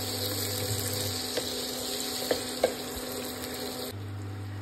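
Chicken, pre-fried potato and biryani masala sauté in a pan with a dense, continuous sizzle, a few light clicks of stirring and a steady background hum.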